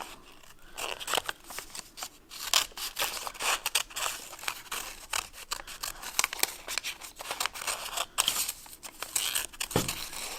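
Scissors free-cut a sheet of paper folded in half, making rapid crisp snips and rustling crinkles in an irregular rhythm, close and fairly quiet, with no talk.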